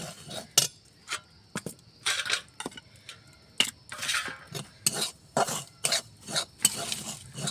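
Semolina being dry-fried and stirred in a kadai while preparing sooji barfi, heard as a run of sharp, close scraping and clinking strokes in an irregular rhythm with short pauses between them, with no talking.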